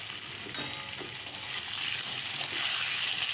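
Chopped onions and green chillies frying in a pan, a steady close hiss of sizzling oil with a couple of sharp pops and stirring clicks early on.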